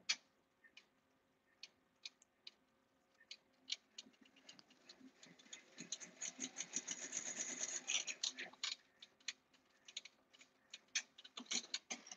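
An embroidery machine stitching a custom children's shirt makes a fast mechanical ticking that builds into a dense, whirring run of stitches midway. It then settles back into sparser clicks, quiet and close.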